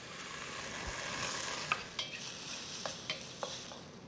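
Ginger, garlic and smoked tofu stir-fried in a wide wok, a steady close sizzle broken by several sharp scrapes and clacks of the spatula, with no talking.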